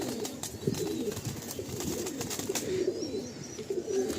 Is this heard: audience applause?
no